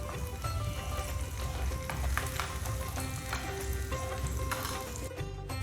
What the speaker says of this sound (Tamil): இதுவும் சேர்த்து நம்ம லைட்டாக வதக்கிக்கலாம்.